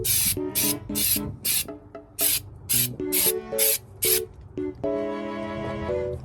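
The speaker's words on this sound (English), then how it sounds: "it's time to hit the 3M undercoating" 3M undercoating is sprayed under a car in repeated short hissing bursts from an aerosol can, about a dozen close, loud blasts with brief pauses between them, ending in a longer spray.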